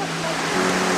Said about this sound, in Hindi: और ये यहाँ का एक झरना है, ऐसे बहुत सारे झरने हैं